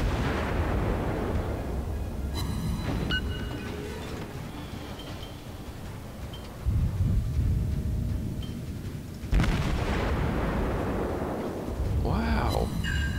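Naval gunfire in World of Warships, with a Tier III Tenryu cruiser in action: repeated heavy booms and rumbling explosions over steady low battle noise, with a couple of sharper bursts near the middle and end.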